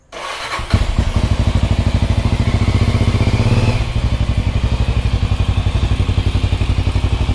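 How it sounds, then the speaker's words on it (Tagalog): A Motorstar Cafe 400 motorcycle with its stock exhaust pipe cranks and fires, then settles into a loud, close, steady idle with a rapid even thumping pulse. No speech. "So, yan po ang tunog ng Cafe 400 with a stock pipe."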